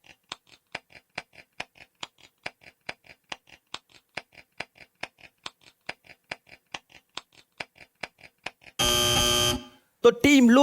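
Quiz show buzzer at a family Bible quiz, preceded by a long run of steady, evenly spaced ticks like a countdown clock, then a loud sustained buzz near the end followed by a short burst of sound.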